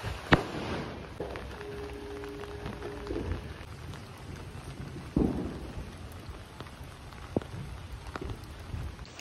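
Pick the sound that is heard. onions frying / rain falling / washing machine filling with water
rain falling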